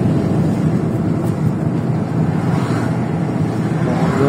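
Street traffic in Strasbourg, outside the city centre with many trucks, rumbles steadily nearby as a dense low engine drone with passing vehicle swells.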